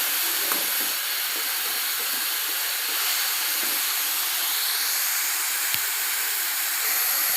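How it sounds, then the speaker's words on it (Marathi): Beetroot sautéing in ghee in a pan gives a steady, close hiss and sizzle that holds evenly throughout with no talking. "आपल्याला बीट 4 ते 5 मिनिटं असं परतून घ्यायचं आहे"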